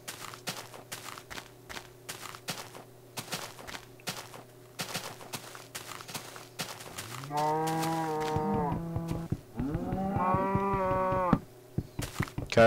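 Minecraft cows mooing among footstep clicks: a low drawn-out moo rises partway through, followed by a second longer, brighter moo, with sharp game step ticks throughout and no talk.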